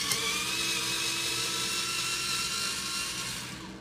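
An electric sharpener whirs steadily with a bright, high grinding whine, close and fairly loud, fading slightly at the end, alone without talk.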